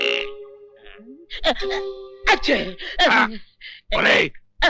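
A sharp sneeze bursts out during a prayer to a god, amid animated, expressive Telugu film dialogue, standing out as a loud nasal explosion between spoken phrases.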